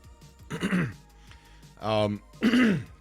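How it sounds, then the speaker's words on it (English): A person clears their throat twice in short, rough bursts, with a brief vocal sound between, close and fairly loud. "Just clear my throat."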